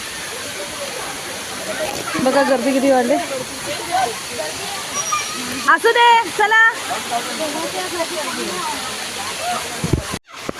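A colony waterfall running hard after heavy rain rushes and hisses steadily in the background, while people talk over it and a crowd murmurs nearby.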